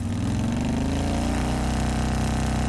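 A vehicle engine drones steadily at a loud, close level as the clutch is released and gears change in the video game Trails of Cold Steel, its pitch shifting partway through.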